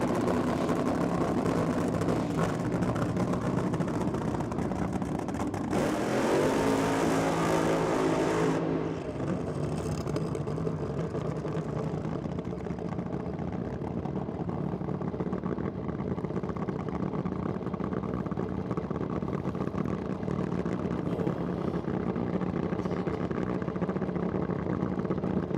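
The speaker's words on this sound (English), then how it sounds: "One engine dragster with a nitro burning Hemi in front of it." A nitro-burning Hemi-powered dragster at Sydney Dragway, heard at a distance, makes a harsh, loud burst of noise for a few seconds before fading into a lingering rumble and crowd ambience.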